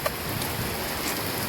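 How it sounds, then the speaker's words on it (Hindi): Heavy rain falls steadily in a village during a stormy evening, a dense, even hiss of drops at moderate distance with no talk. "देखो कितनी तेज बारिश आ गई है"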